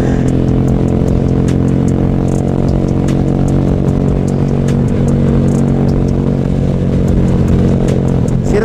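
A motorcycle engine runs loud and close, with a steady, sustained revving drone and mechanical clatter that continues throughout without a break.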